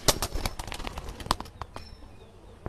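A Giribaz pigeon flaps its wings in a quick flurry of soft beats, close by, then the fluttering trails off into quieter rustles.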